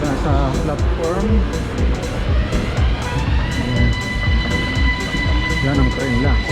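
A train sits at the Vienna Airport station platform, its rumble and rising electric whine filling the station while people talk nearby over the noise.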